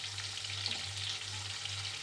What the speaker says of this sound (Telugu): వేసేసుకొని మంచి కలర్ వచ్చే వరకు ఫ్రై చేసుకుందాం.